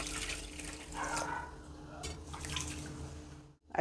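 Rice being rinsed by hand in a vessel of water before soaking, with soft sloshing and dripping water sounds that carry on steadily, close and moderately loud, before a brief pause.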